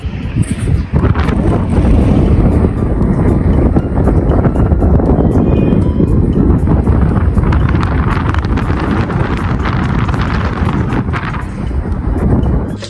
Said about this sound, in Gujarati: ખતરનાક પવન ફૂંકાય છે જો હું તમને અવાજ સંભળાવું